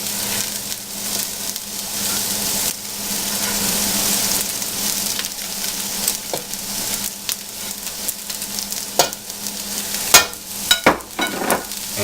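Cabbage dropped into a pot for borscht, bringing a loud, close burst of sizzling and bubbling that settles into steady cooking noise, followed by several sharp clattering knocks near the end.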